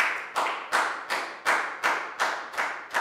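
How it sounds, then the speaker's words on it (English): A class applauds at the end of a Year 4 maths lesson with a series of about eight loud, evenly spaced claps, close and dry, with no talking over them. "And a big round of applause for everybody."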